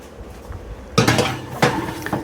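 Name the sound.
muffin trays put into the oven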